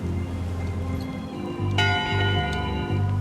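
A ship's bell rings in the video game Return to Monkey Island, a bright metallic clang with lingering harmonic ring that strikes once and then sounds again, heard over a steady low game music and ambience bed.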